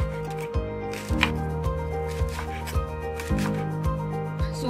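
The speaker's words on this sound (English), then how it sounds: "We just need to chop the spring onions finely." Spring onions being chopped finely with a knife on a board: steady, evenly spaced knife strikes at roughly two per second, close and clear, over a bed of background music.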